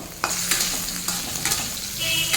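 Cut potato, sweet potato and eggplant pieces sizzle loudly as they fry together in a hot pan over high flame, with a steady bright hiss broken by a few stirring scrapes.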